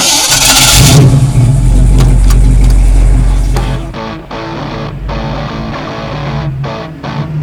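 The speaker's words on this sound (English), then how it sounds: "What I got here is my 66 Mustang Convertible." A 1966 Ford Mustang convertible engine roars loudly at first, then settles into a steady mid-pitched running rumble with a few short revs, close to the microphone.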